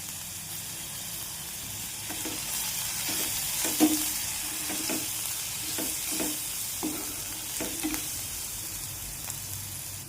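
Onions fry in an oil pan after turmeric powder has been added, making a soft, steady sizzle with evenly spaced scrapes and knocks of a stirring spoon, nearby and without talk.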